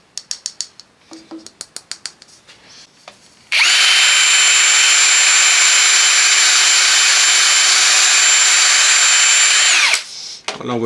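A thin, hollow turned wooden sphere is cut and finished by hand. A quick run of light clicks gives way to a loud, steady high whine lasting about six seconds, then it stops abruptly.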